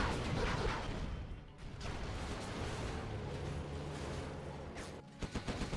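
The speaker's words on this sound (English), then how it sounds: "This Gatling is in the supply lines here" A Gatling gun in a real-time strategy game rattles off bursts of rapid fire amid distant explosions and battle noise, moderately loud against a busy, steady background.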